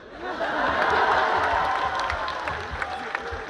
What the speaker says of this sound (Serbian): Aplauz za obezbeđenje.